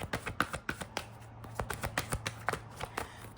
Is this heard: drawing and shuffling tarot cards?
yes